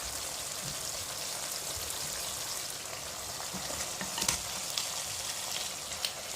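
Chicken frying in hot oil and masala for a Mughlai Chicken Changezi, a steady close sizzle with light stirring scrapes and a few sharper pops near the end, no talking.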